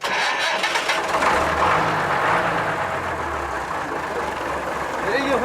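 A truck engine cranks and catches, then settles into a steady mid-pitched rumble, close and fairly loud, with a voice speaking over it.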